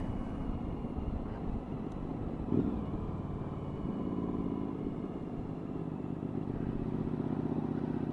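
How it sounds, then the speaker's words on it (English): Suzuki V-Strom 1000 motorcycle on a commute to work, heard from the rider's position: a continuous low engine drone with wind rumble, steady throughout with a slight rise in pitch midway, no talking. "Bike seems to be running fine."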